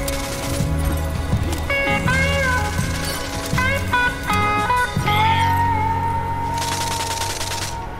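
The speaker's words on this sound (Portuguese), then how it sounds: "Tá miado lá no fundo." A cat meows repeatedly in the background during a Rogue Company online match, with the meows falling in a steady rhythm under a dense layer of game sound effects and music.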